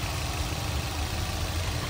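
A 2016 Maruti Suzuki Baleno engine idles with a close, steady low hum and no voices.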